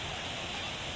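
The Wasserspiele waterfall in Bergpark Wilhelmshöhe sends out a broad, steady rush of falling water, loud and unbroken, with no voices.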